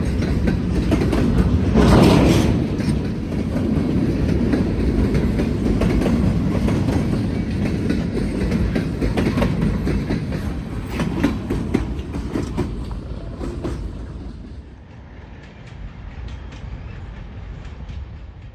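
A long freight train rumbles steadily past, wheels clicking over rail joints, the heavy roar fading a little toward the end.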